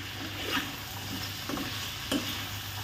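Green peas go into a pan of frying vegetables with salt for a chicken stew, giving a soft, steady sizzle broken by a few stirring scrapes, with no talking.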